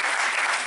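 Brief burst of applause at the close of a guitar recital in a chamber music hall, dense steady clapping filling the whole moment.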